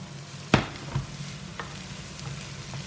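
Spring onions dropped into a pan of chanterelle mushrooms for a wrap filling, one sharp clatter followed by a few softer knocks over a low continuous frying hiss, close and without speech.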